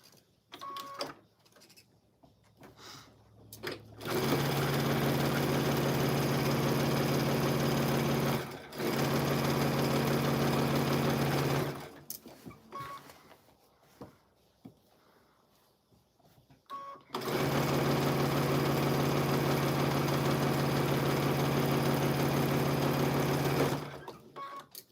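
A sewing machine stitches quilt blocks made from orphan blocks in two long, steady bursts of whirring motor hum, separated by quiet pauses with faint handling noises between runs.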